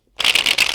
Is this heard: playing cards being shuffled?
yes